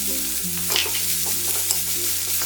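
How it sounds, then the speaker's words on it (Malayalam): Sliced onion stirred with curry leaves in a hot pan while making bread masala dosa, a steady close sizzle with soft scraping strokes of the spoon throughout, no voices. "അത് ഇതിലേക്കിട്ട് ഇളക്കി കൊടുക്കാം."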